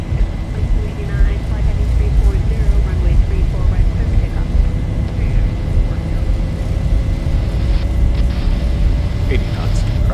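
Zibo-modded Boeing 737 engines spooling up for a takeoff roll in the X-Plane 11 flight simulator: a steady, loud, broadband roar with a deep rumble and a thin whining tone held throughout, with faint voices now and then.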